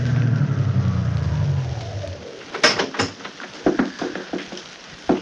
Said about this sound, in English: a big car drove up to the only entrance.